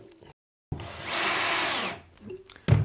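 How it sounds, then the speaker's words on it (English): A Bosch cordless power drill with an extension drives screws while building a mini shed, whirring loudly for about a second, rising and holding steady before stopping, followed by a brief clunk. "So I just put an extension on the drill."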